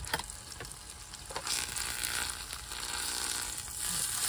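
Steak fries in a pan inside a tiny camper, a steady close sizzle and crackle running throughout with a few sharp pops and ticks, no voices.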